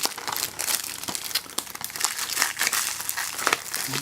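Plastic shrink film is peeled and crinkled off a Transformers: The Last Knight Blu-ray case, with close, busy crackling and tearing rustles throughout and no talk.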